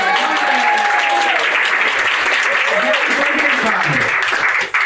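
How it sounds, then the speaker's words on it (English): Dinner theater audience at a nightclub magic show claps together, a loud, continuous burst of applause that holds steady with a few voices calling out over it, then cuts off abruptly at the end. "How about let's all clap our hands?"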